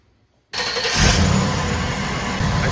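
A GMC truck engine cranks and fires to life after a short silence, jumping abruptly to a loud, steady running roar with a deeper rumble as it settles into a fast idle; no voices.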